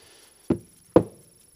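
Two sharp, close knocks about half a second apart drive a part out of a milling fixture in a quiet workshop, each with a short ringing decay.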